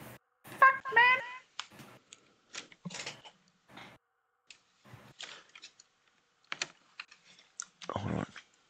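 A computer keyboard clicking erratically during a game session, scattered bursts of sharp key taps and clatters at irregular intervals, close and fairly quiet, with brief talk in between.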